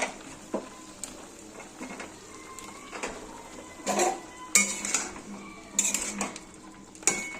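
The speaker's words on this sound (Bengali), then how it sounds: "আমগুলো দিয়ে নেড়ে চেড়ে ঢেকে দিলাম।" A spatula clinks and scrapes against a metal pot as green mango pieces are stirred into a stem curry, with sharp clanks near the end as the lid goes on; no voices.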